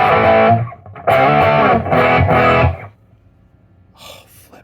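Electric guitar through a REVV Tilt overdrive pedal plays a few gritty, sustained chords with short pauses between them, then rings out into quiet with faint string noise.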